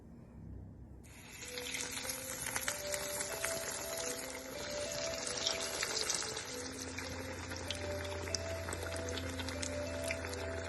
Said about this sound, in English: we're going to take our eggplants and put them into the oil